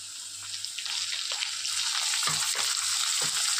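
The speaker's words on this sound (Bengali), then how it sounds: "আলুটা লাল করে ভাজা হয়ে গিয়েছে, এবার দিয়ে দেবো আদা রসুন বাটা।" Potatoes fried red-brown in oil with ginger-garlic paste added, a steady close frying sizzle with occasional stirring clatter, for a potol chingri dish.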